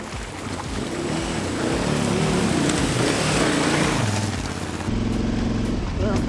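KTM 990 Adventure R motorcycle riding through a water ford on a leaf-strewn Welsh trail, a loud continuous rush of water spray and engine drone with wind buffeting, close up, with a voice talking partway through.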